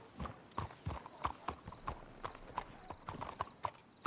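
Horse hooves clip-clop at a steady walking rhythm in Red Dead Redemption 2, with around a dozen crisp, fairly close hoof strikes over a quiet background.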